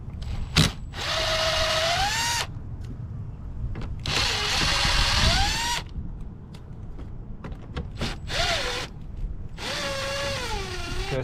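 A power drill backs screws out of the fog light on a 2019 Ford Expedition XLT, whirring in four separate close bursts, each rising and falling in pitch, with short quiet gaps between them.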